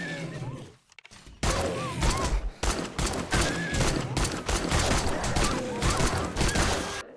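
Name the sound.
gunshots at zombie dog in 7 Days To Die video game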